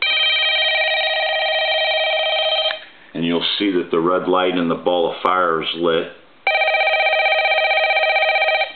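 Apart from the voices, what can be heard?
telephone bell ringing on a Dragon telephone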